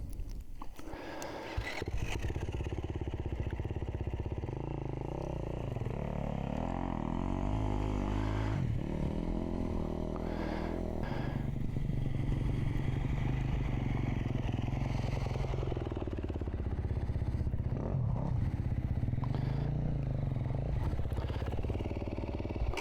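A dirt bike engine revs and labors continuously while it climbs a rocky lip and crosses scaly rock, close to the listener, with pitch rising and falling as the throttle changes and clattering scrapes from the rocks.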